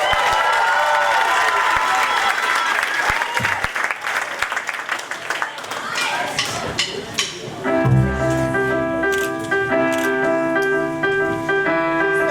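Applause and cheering from a school audience greet a Year 7 band at a battle of the bands, loud and sustained, fading into scattered claps before the band starts playing with sustained musical tones.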